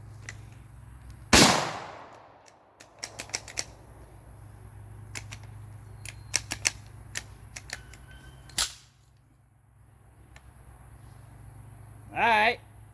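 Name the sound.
G-Force Tactical shotgun firing buckshot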